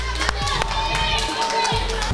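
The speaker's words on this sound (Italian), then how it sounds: "Applauso." Quiz show studio audience clapping and cheering in a short burst, a crowd of hands close and lively with a faint tonal music bed underneath.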